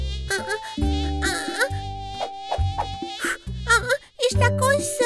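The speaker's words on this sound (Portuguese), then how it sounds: "Somos mosquitos, voando, voando." A whining, high-pitched mosquito-like buzz drones in repeated bursts over a bright musical backing in a children's cartoon song.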